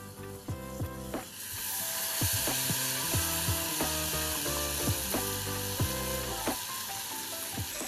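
Rice sautéing with oil and spices for shrimp fried rice, a constant sizzle punctuated by repeated scraping and clacking of a utensil against the pan, close and clear.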